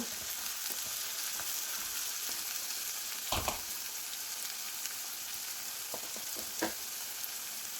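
Chopped large tomato frying in a pan for a white chana masala roast, a steady loud sizzle with a few stirring scrapes and clatters partway through.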